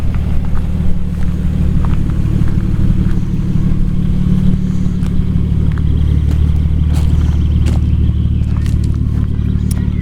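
Nissan Stagea RS-Four car sits with its exhaust giving a deep, steady, loud rumble close by, unchanging over the stretch with a low throbbing idle.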